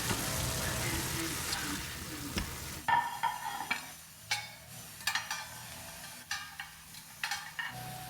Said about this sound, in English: I just need to add the burger to the pan, break into large chunks, sear